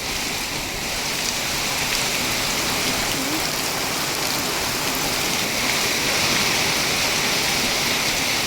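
Heavy rain pours steadily over flooded rice paddies in a dense, even hiss that stays loud and unbroken throughout.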